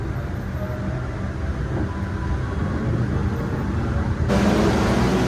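Train rolling into Lempuyangan station in Yogyakarta at night, a continuous low rumble of wheels and carriages heard from inside, rising a little louder toward the end.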